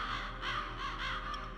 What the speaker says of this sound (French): Tu sais, les corbeaux ne sont pas des nécrophages.